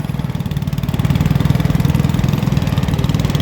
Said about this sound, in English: And then a beautiful little Boland tractor,